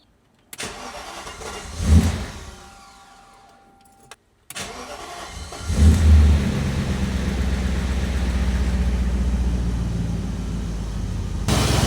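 An old rebuilt BMW engine starts up after a short crank and a brief stutter, then settles into a steady, close idle that runs on alone.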